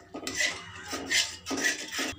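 A spoon scraping and stirring cornflour mixed with water in a pan over a low gas flame, four rhythmic strokes with metallic rasps and clinks, close and fairly loud.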